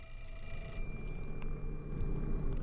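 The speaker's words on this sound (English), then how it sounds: "the phone's ringing" In Fatal Frame: Mask of the Lunar Eclipse, a telephone rings again, a bright ringing tone fading out early over a rumbling low drone with faint scattered clicks afterward.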